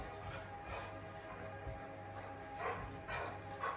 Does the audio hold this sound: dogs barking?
yes